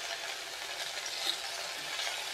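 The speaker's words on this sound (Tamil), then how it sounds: "இதில் வந்து கொஞ்சமாக எண்ணெய் ஊற்றிட்டு இந்த புளியை வந்து லேசாக பிச்சு போட்டுருவோம்" Tamarind frying in a little oil for a coriander seed chutney: a close, even sizzle with a soft crackle that holds steady throughout, with no talk.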